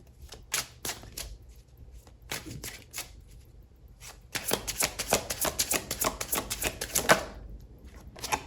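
Tarot cards are shuffled and drawn by hand, scattered close crisp flicks and slides at first, then a long rapid riffle of rattling card snaps, with no talking.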